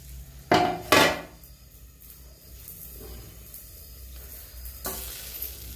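A lid clatters down twice onto a frying pan while traditional dhirde cook, two close metallic knocks followed by a soft, steady sizzle.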